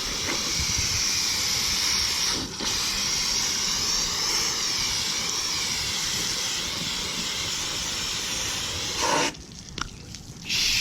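Water spray hisses steadily and loudly against an air conditioner's evaporator coil, a continuous close rushing rinse that briefly breaks up and sputters near the end.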